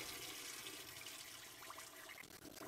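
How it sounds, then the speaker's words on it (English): Water pump kicking in aboard an Auto-Sleeper Kingham motorhome, a faint steady whir under rushing water from a kitchen tap, running continuously with no speech. "pump's on there, you can hear the pump kick in"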